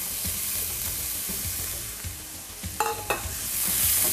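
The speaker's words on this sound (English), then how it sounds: "Again, just saute it a little bit until it's a little bit soft." Diced red and yellow bell peppers and onion sautéing in a pan, giving a soft, steady sizzle broken by a few close scraping stirs, with no talk.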